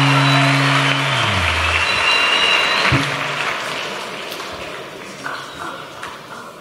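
Audience applause at a school talent show, a broad wash of clapping that swells loud at the start and gradually thins and fades, with a brief low tone underneath early on.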